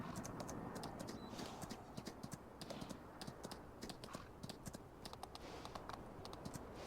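Rapid, steady clip-clop of a horse's hooves galloping at full speed across the ground in Farming Simulator 19, with even rhythmic beats and no talking over them.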